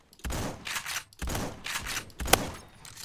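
Shotgun blasts from a KS23M loaded with birdshot in the Roblox game Phantom Forces, three heavy booming shots spaced about a second apart, each with a short rumbling tail, loud and close.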